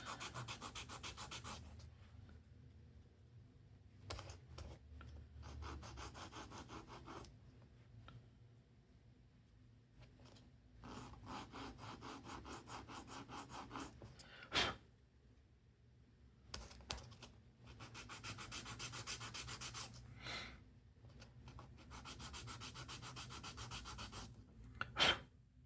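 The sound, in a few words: sanding a model rocket part with sandpaper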